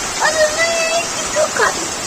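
Heavy rain pours down in a constant dense hiss, with voices talking over the downpour at moments.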